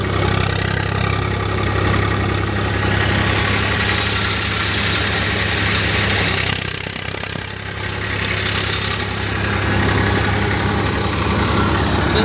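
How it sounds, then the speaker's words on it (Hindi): A Sonalika tractor engine drives a thresher, producing a loud, steady, close-up drone with a constant low throb and a brief dip midway. "अभी देखते हैं कितना चला हुआ ट्रैक्टर, कितने RPM पे चल रहा है।"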